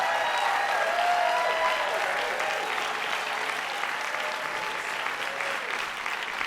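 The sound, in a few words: audience applause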